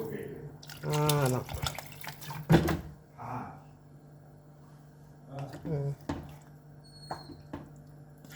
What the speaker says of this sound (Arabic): نحطو الماء هنا نديرو هكايا الماء ونخلوه يطيب